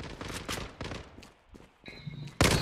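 Gunfire in a competitive video game: a series of faint bursts and shots with some in-game effects, muffled and fairly distant, then a sharp loud burst at the end.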